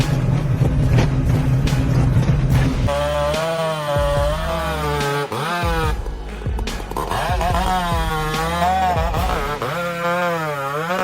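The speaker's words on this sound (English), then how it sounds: "Felling massive 150-foot-tall spruce trees, the lumberjack wields a powerful chainsaw" A powerful chainsaw fells massive 150-foot-tall spruce trees, its engine loudly revving and bogging as it cuts through thick trunks, close and continuous with pitch shifts under load.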